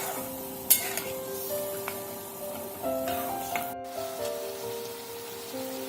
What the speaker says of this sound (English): We'll increase the flame again to high and we'll keep on stirring it until it becomes very dry